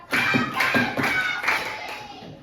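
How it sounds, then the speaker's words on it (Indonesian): An elementary school class of children clapping in a counted pattern in the classroom, short bursts of sharp claps repeated in groups with brief pauses between them, close and fairly loud. "Nah, tepuk satu. Tepuk dua. Tepuk tiga. Tepuk empat."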